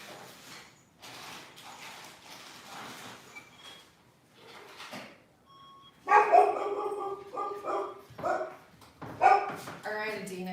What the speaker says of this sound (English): That's my dog barking up a storm.